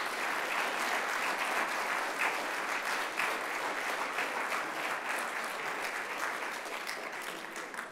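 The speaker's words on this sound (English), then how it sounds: "So we could just give Derek Smith a round of applause." A crowd at a Black Lives Matter Day veterans' honoring ceremony applauds steadily for several seconds, with dense, even clapping from many hands that sounds somewhat distant and holds at a constant level throughout, with no talking over it.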